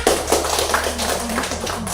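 Classroom applause from a group of students fills the whole span, a dense steady patter of hand claps at close range with a low hum beneath.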